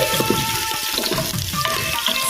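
Ghee rice sautéing and frying in a pan, with a steady, dense sizzle and soft stirring scrapes running continuously at close range, with no talk.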